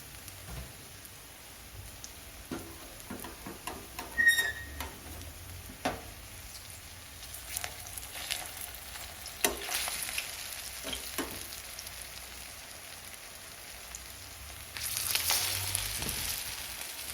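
Quiet, steady sizzle of potato tikkis frying in oil on a griddle, with scattered pops and a few scraping stirs, growing a little louder and hissier near the end.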